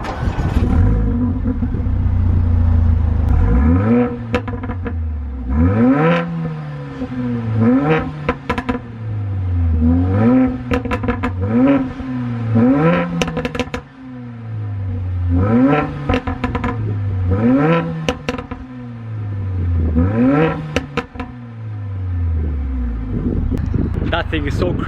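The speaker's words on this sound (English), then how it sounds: "we'll finally turn on the car. It has got the AMG Sports exhaust." A Mercedes-AMG A45 hot hatch engine with AMG sports exhaust revs repeatedly, rising and falling in sharp bursts over a deep idle rumble, loud and close with a throaty exhaust note.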